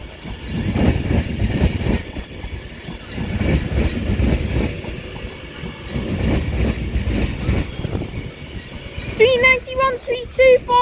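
Avanti West Coast train from Glasgow Central arriving at platform 5 at Crewe on the West Coast Main Line, a steady rumbling roll with station noise and people talking throughout, then sharp brake squeals near the end.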